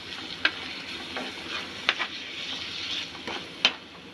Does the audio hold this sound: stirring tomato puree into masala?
yes